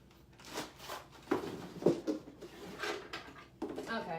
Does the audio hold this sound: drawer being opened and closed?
yes